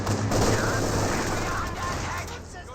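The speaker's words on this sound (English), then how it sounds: "we do got this conscript squad now receiving quite a bit of fire from this half-track" Bursts of half-track machine-gun fire in the Company of Heroes 2 video game, dense rattling shots at moderate level mixed with battle noise.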